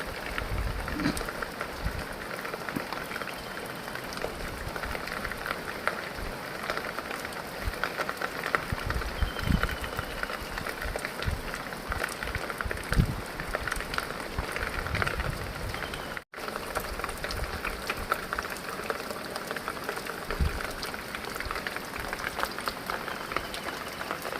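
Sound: light rain falling

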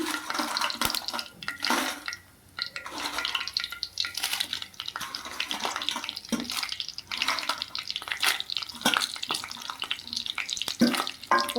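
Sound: coriander seeds and dried red chillies frying in a pan

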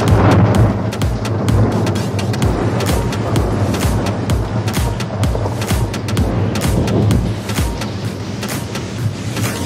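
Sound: thunder from a lightning strike

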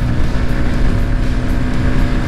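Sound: Yamaha MT 15 V2 motorcycle engine at 8000 RPM

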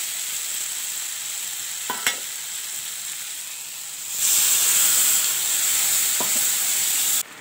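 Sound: frying poppy seed and chili paste in a pan

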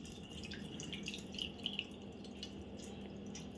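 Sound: water being strained off boiled lentils through a sieve

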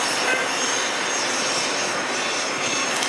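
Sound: locomotive engine passing during railfanning

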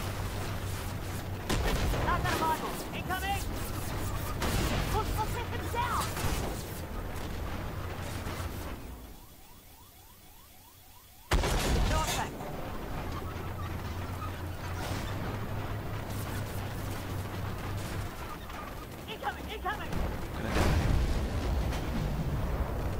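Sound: artillery fire in the video game Armored Warfare

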